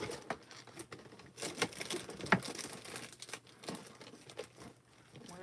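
Sheets of Gina K Brilliant Blue Fancy Foil handled for card crafting, busy close crinkling and rustling with small crackles and one sharper snap, quiet and continuous, no talking.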